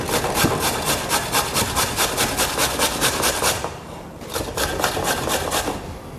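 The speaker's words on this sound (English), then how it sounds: "It will take some time to grate." Carrots are rubbed over the large holes of a grater in fast, even rasping strokes, a close scratchy rhythm that pauses briefly and then resumes.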